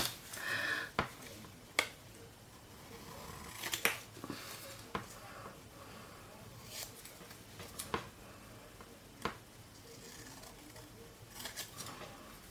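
Scissors snipping a paper picture out for a children's journal, sparse quiet crisp clicks scattered irregularly with pauses, close and soft.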